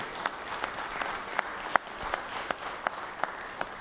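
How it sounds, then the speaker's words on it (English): Applause in the Georgia Senate chamber for a retiring senator, a moderate indoor clapping with a few sharper claps standing out, steady across the moment with no talk over it. "Let's give him a big round of applause."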